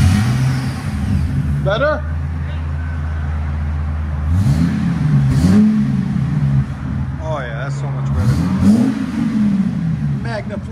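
Ford Excursion with a 5.4L V8 and a Magnaflow 28-inch exhaust idles with a deep rumble, then revs up twice in rising surges that fall back to idle, close by, with a person speaking briefly.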